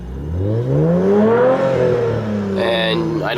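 A car engine revs in neutral in a car with a rattling noise, climbing smoothly in pitch then falling back, loud and close, with no voices.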